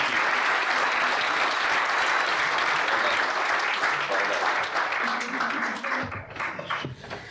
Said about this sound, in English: give my panel a huge applause again